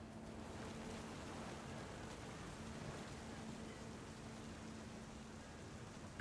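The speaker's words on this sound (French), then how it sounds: "Vive la pluie." Steady, even rain hiss from the video game What Remains of Edith Finch fills the whole stretch, a dense wash of drops with a faint low hum underneath and no voices.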